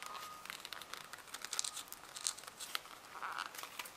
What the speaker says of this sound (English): Okay, I'm just gonna have to rip into it.